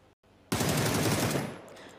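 Automatic rifle fire in a PUBG-style battle royale match, a short burst of rapid shots that starts abruptly, holds loud and dense for about a second, then fades, without commentary over it.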